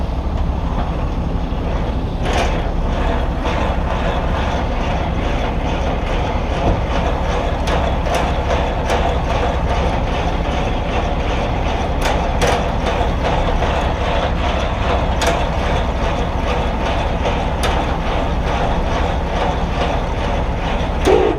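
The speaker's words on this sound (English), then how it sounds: "This landing gear might be a little loud." Semi-trailer landing gear being cranked down: a steady loud low mechanical grinding drone with sporadic sharp clicks and clanks, continuous and close.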